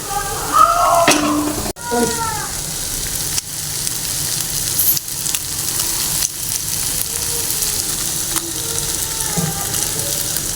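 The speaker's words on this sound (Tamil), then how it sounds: "நல்லா கிண்டி வதக்கி வெங்காயம் ஓரளவுக்கு நல்லா வதங்கிச்சு இப்போ வந்து நம்ம முட்டையை உடச்சி ஊற்றிக்கலாம்" Eggs fry with sautéed onions in a pan, a steady close sizzle broken by sharp clicks and scrapes of a spatula stirring against the metal.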